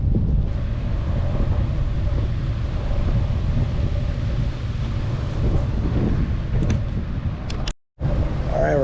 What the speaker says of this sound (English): the wind really picked up and we got close to the open water